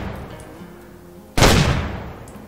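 A single hunting rifle shot fired at geese in the hunting game Way of the Hunter: one sharp, loud blast that breaks a quiet ambient stretch and rings out with a lingering tail.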